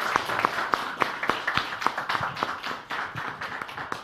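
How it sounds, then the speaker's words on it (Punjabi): A gathered crowd claps loudly at an event, the sharp claps landing in a fairly regular, rhythmic beat, close and clear with no talking over them. "ਇੱਕ ਜ਼ੋਰਦਾਰ ਤਾੜੀ ਆਪਣੇ ਆਪ ਦੇ ਨਾਂ ਤੇ"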